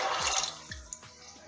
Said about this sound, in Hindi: इसके अंदर 3 ग्लास पानी के डालेंगे